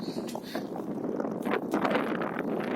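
Wind gusting at the seaside during a bicycle trip from Odesa to Serhiivka, a rough continuous buffeting against the microphone.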